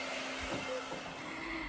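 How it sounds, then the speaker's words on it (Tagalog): A hair dryer blowing on someone's hair, a steady broad whooshing hiss with a faint motor hum, continuous and moderately close, no talking. "nagbo-blower po siya ng buhok."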